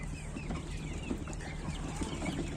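Large broiler chickens cluck and murmur in a pen, scattered soft calls overlapping in a continuous farmyard bustle, fairly faint and without voices.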